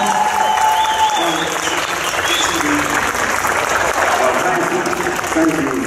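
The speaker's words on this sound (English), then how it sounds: "Let's give you a nice round of applause," Audience applause fills a Comic Con Q&A hall in Antwerp, a sustained, dense wash of clapping and crowd noise that holds steady at full level throughout.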